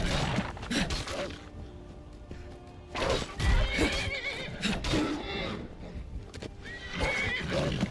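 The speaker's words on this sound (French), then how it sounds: "Tu laisses mon cheval tranquille." A horse in the video game Skyrim whinnies and neighs in several loud bursts, with clip-clopping hooves and game ambience between the calls.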